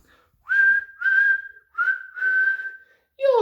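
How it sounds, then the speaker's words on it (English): A cartoonish train whistle, most likely a person whistling to voice a steam engine, sounds in four steady sustained toots with short gaps, ending in a sliding whistle, clear and close. "You're doing well, whistled Edward, as James slowly struggled up the hill with clouds of smoke and steam pouring from his funnel"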